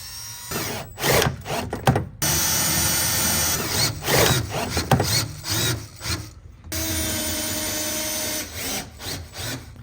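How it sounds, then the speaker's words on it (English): A power drill drives self-tapping screws through steel while rock sliders are installed on a vehicle's rocker panel, with repeated whirring bursts and grinding, short pauses between runs, close and loud. "So now we're going to go ahead and insert our self-tapping screws."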